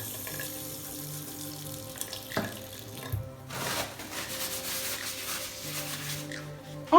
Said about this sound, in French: Se laver les mains